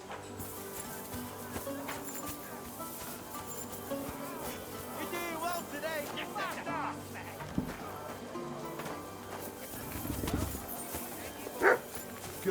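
A dog in the medieval video game Kingdom Come: Deliverance II barks and yips in short bursts among hoof clip-clops and background music, with a voice speaking over parts of it.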